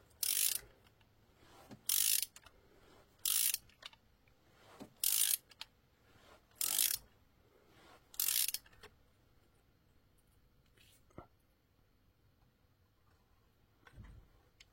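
A torque wrench set to 23 newton-metres ratchets as it tightens a bolt on a 1.4 VTi Peugeot Citroën Mini engine during timing chain assembly, giving several short, crisp bursts of clicking with pauses between them and a faint clunk at the end.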